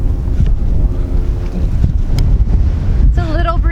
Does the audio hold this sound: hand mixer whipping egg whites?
no